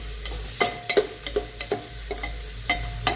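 Spices with biryani masala and chopped coriander are stirred in a cooker on a low flame, giving a series of sharp spoon taps and scrapes against metal over a soft continuous sizzle, close up with no voices.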